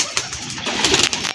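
A Kasuri pigeon, a highflyer breed, gives a soft close coo with a few short breathy pulses, heard alone without speech.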